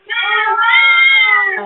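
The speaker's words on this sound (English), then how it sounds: "There seems to be a leader arising from the sea of cats." A crowd of cats meowing together, a sustained, layered chorus of overlapping yowls and cries that stays loud and steady for under two seconds, heard close by.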